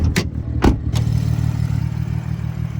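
A BMW M240i's B58 inline-six idles steadily, heard close from the open engine bay, with a few sharp clacks at the start over the continuous low hum.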